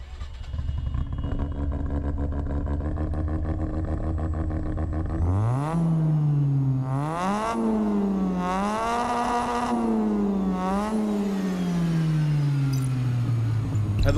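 A Mazda RX-7 in the racing game Test Drive Unlimited Solar Crown idles steadily, then revs up and down in several loud, close bursts before easing back, with no talking.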